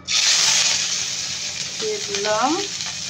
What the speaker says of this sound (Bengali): এবার নাড়াচাড়া করে এগুলোকে ভেজে নেব।